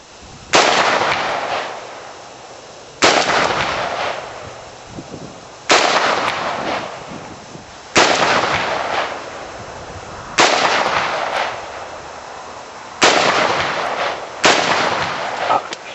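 A Century Arms C93 rifle fires at a small steel plate 50 yards out, six loud sharp shots spaced about two to three seconds apart, each with a ringing, decaying tail, and no talking.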